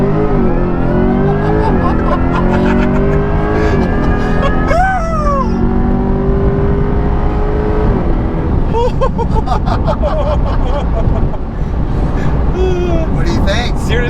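Corvette C8 E-Ray launching hard and accelerating, the engine note sweeping rapidly upward in rising pitch with shift breaks, loud and close from inside the car, with people talking over it.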